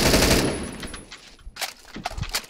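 Gunfire rings out in a shooter video game during a wallbang kill: a rapid burst of shots at the start, then a few sharper scattered cracks after a brief lull.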